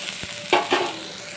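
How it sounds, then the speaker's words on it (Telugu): Coriander leaves and other ingredients frying in oil: a constant close sizzle broken by two quick stirring scrapes, no talking. "చూడండి ఇలా ఆయిల్లో మగ్గించుకోవాలి"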